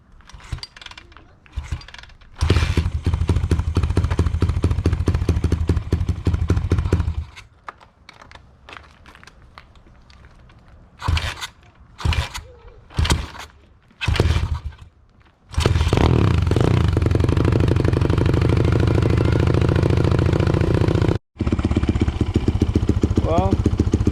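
A 190cc pit bike engine cranks in several bursts of starter clatter with gaps and mechanical rattles, then catches and settles into a loud, steady low-rpm running drone close by, briefly cutting out once.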